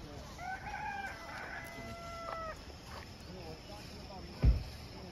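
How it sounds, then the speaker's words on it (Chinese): A rooster crows clearly in a misty mountain village among rice terraces, with faint clucking around it, under a quiet outdoor background and a brief bump near the end. "还听到有鸡叫"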